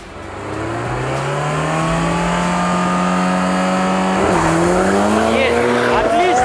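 BMW M5 E60 and Toyota MR2 launching side by side in a drag race, loud engines rising steadily in pitch through the gears with a brief shift dip, close and continuous.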